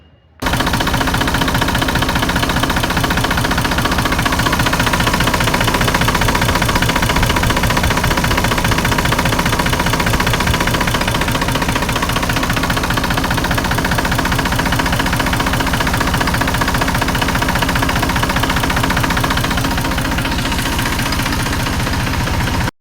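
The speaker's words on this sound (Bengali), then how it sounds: "ইঞ্জিনের সাউন্ড কোয়ালিটি অনেক সুন্দর।" A used 7250 power tractor's engine runs at a steady, loud idle, its rapid, even knocking chug holding unchanged and close for over twenty seconds, with no voices.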